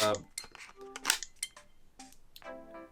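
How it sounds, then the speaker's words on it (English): Console handheld controllers (Nintendo Switch 2 Joy-Cons) detaching and attaching, giving a string of short, bright clicks and chimes in quick succession, close and crisp, with a sustained tonal jingle near the end. "That new sound effect for when you detach and attach the Joy-Cons"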